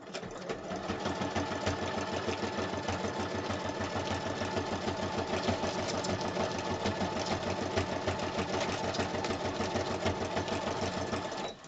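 A sewing machine runs continuously, stitching a fabric piece straight down for a handmade stationery set, a close, steady rapid mechanical chatter that stays even throughout with no pauses.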